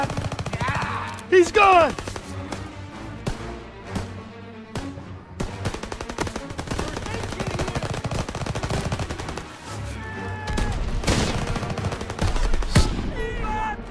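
Rapid gunfire from a sniper and other weapons in the World War II shooter Call of Duty WW2, with sharp repeated shots and bursts over a busy battle mix, while a voice shouts briefly.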